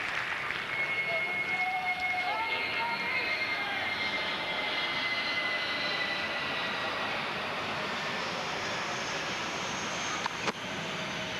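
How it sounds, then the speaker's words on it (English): A propeller or jet airplane passes overhead above an outdoor tennis match, its engine roar a steady, moderately loud wash lasting throughout with a faint whine, no talk over it. "I think just about every time a plane has gone overhead, we've seen an error"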